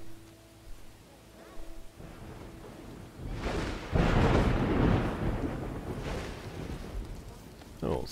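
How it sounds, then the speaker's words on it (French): Thunder from a storm in the video game Dawn of Man rolls in as a long, loud rumble with rain hiss, building around the middle and lingering, with light background noise beforehand. "Tempête, on s'en fiche."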